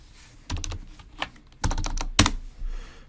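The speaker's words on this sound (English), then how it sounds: "Let's pretend I can type." Typing on a computer keyboard while using the Sinumerik HMI Advanced trace tool: three short bursts of close, crisp key clacks separated by brief pauses, with no voices.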